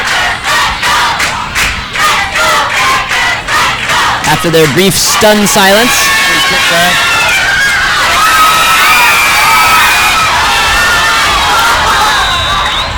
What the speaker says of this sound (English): The Bearcat student body is certainly behind them. You can hear them cheering loudly